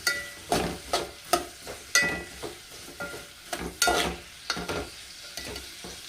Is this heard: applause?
no